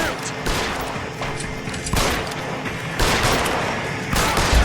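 Warning shots fired during a chase in L.A. Noire, several loud bursts of gunfire spaced about a second apart over continuous game noise.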